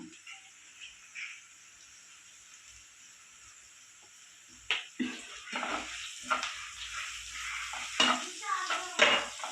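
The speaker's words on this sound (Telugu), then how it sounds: "సో ఆ ప్యూరీ ఇందులో వేసి ఫ్రై చేసుకోవడమే అనమాట" Tomato puree frying in a pan for paneer curry, with soft sizzling and stirring that grow louder partway through. Quiet scraping comes first, then uneven bursts of sizzle and stirring up close.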